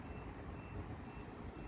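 A solar panel tracker's alarm beeps steadily as the panels lower in strong wind, thin and faint beneath a constant roar of gusting wind.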